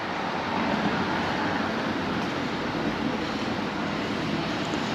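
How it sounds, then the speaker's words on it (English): Steady wind at sunrise during a motorcycle tour in Thailand, a loud, broad, unbroken roar with no clear gusts and no voices. "Oh, it's fairly windy, look at that."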